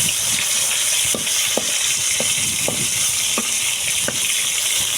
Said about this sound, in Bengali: একে একে আমি চার পিস মাছ আমি দিয়ে দিচ্ছি তেলের উপরে